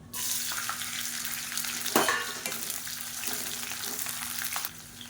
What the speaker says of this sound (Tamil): இப்போ இந்த பரண்டை வதங்கட்டும்